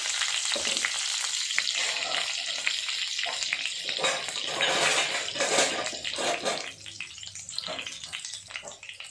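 Green chillies and garlic fry in oil with mustard seeds, giving a steady, fairly quiet sizzle with popping crackles that swells midway and eases toward the end, with no talk.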